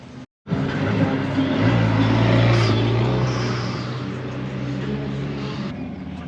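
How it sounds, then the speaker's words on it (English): A vintage Chevrolet truck passes by at a car show, its engine swelling from a low rumble to a louder, nearby drone with a rising tone, then easing off as it moves away. "here comes something really cool and interesting. Vintage Chevrolet truck"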